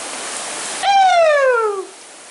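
Steady, full hiss of Tunnel Falls pouring down along the Eagle Creek Trail, with a single falling whoop from a voice cutting over the rush for about a second.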